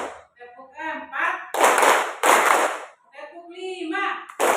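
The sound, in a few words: rhythmic hand clapping by a school class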